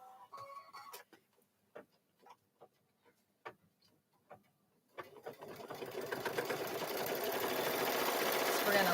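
A sewing machine stitches a quilt, first in a few slow, separate clicks and taps, then running up into a continuous, speeding mechanical rattle that grows louder to the end.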